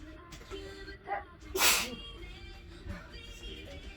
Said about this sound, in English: pepper's gonna make me sneeze